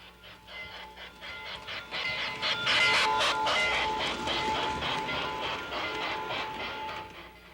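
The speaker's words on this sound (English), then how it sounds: "The famous Rail Chief set, headed by the Scale Hudson, passes the Buildings Unlimited model of Lionel's factory in Hillside, New Jersey." A Lionel Rail Chief toy train headed by a Scale Hudson locomotive runs steadily on a model layout, its rolling clatter and whir continuous and fairly close, with no voices.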